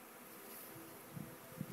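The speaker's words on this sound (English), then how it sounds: "But why are all these bees flying around if the swarm's on the ground?" Faint, continuous buzzing of a bee swarm flying around, with a couple of individual bees droning briefly closer.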